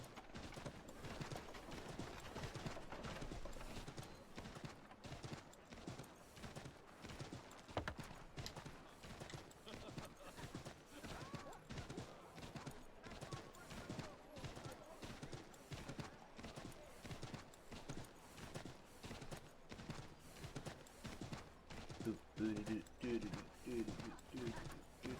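Horse hooves clip-clop steadily while riding through Assassin's Creed III, a continuous galloping rhythm with occasional mechanical creaks and a brief whinny, moderately loud throughout.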